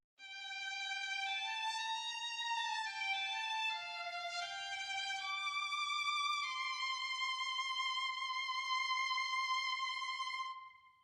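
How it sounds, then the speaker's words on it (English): Solo violin from a sample library heard through a tree microphone, placed a little back in the room, playing a slow legato line of sustained notes with smooth pitch changes, clear and alone without talk. "this tree mic actually has the violin a little further back in the room"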